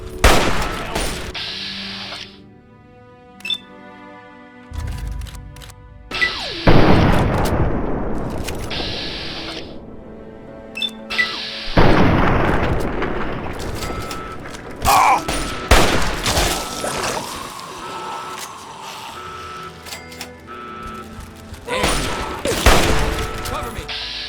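Rapid gunfire and explosions in the video game Fallout 3, dense bursts of shots and booms filling the scene in repeated waves, with shouting voices mixed in.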